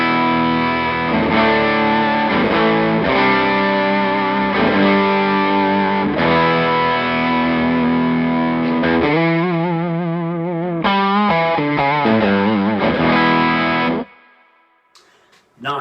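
An electric guitar runs through a Majestic overdrive pedal with the gain turned all the way up. It plays thick, fat, driven chords and riffs for a long stretch, then the sound cuts off and the last notes ring out.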